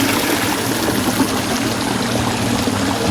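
Clear water flows steadily along a village channel toward a drain, a continuous close pouring and trickling wash with no voices.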